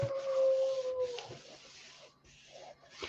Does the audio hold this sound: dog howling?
yes